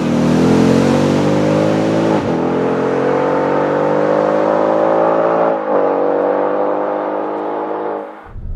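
Ford Mustang GT 5.0 Coyote V8 convertible engine revving, a loud, close, rising growl that climbs steadily in pitch, briefly dips twice between pulls, then cuts off at the end.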